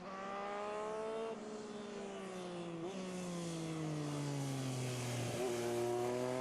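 Racing motorcycles at the Cookstown 100 road race scream past at full throttle, engine pitch dropping as they pass and shifting gears, loud and continuous with no talk over them.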